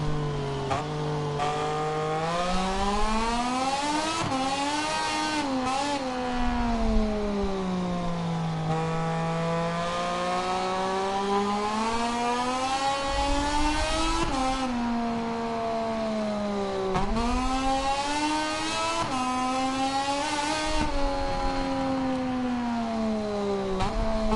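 A Moto2 racing motorcycle engine on a circuit, heard loud and continuous up close as it revs, climbs and drops through gear changes and corners.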